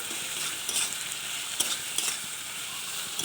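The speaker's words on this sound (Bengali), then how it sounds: "আর সয়াবিন মাখাটা এবার দিয়ে দেবো, দিয়ে এবার নাড়তে থাকবো" Marinated soybean chunks frying in a pan are stirred, a steady bright sizzle with a few scraping taps of the spatula scattered through; close and alone, no voices.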